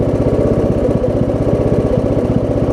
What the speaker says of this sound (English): Throttle it down. Listen, I mean, it'll even idle. It even idles really well.